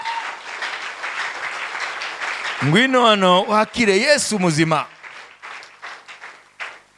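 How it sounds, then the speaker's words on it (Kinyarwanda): A church congregation claps and cheers loudly for the king during a Kinyarwanda sermon, sustained applause filling the first seconds, then a preacher's voice rises over it and the clapping thins out. "amashyi menshi ku mwami"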